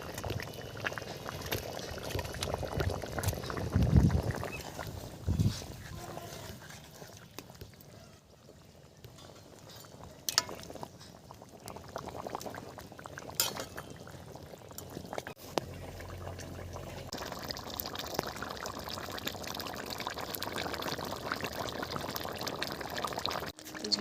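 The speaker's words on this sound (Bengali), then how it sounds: "মাছ কোটা এবারে ঝোলে দিয়ে দিচ্ছি।" Pieces of pond fish simmer in a papaya curry, a soft bubbling and liquid sizzle with a brief louder splash as the fish goes in, continuing quietly with no talking.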